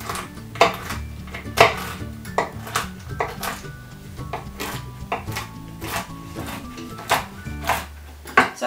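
Cashew nuts being chopped by hand with a knife on a board, a steady run of sharp taps and knocks with a few louder hits, close and clear, with no talking.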